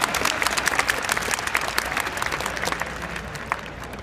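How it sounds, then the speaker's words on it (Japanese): A football club's awards ceremony audience applauds the 2015 Mr. Gamba Golden Award winner, a steady dense clapping that carries at full loudness throughout and fades only slightly toward the end. "2015年度ミスターガンバ黄金の賞、丹羽大輝選手に今一度大きな拍手をお願いいたします。"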